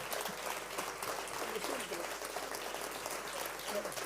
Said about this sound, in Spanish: un merecidísimo aplauso de tu ciudad